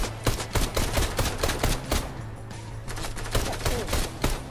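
Gunfire crackles in a Fortnite match, with sharp, close shots in quick irregular bursts repeating throughout over a steady low game hum.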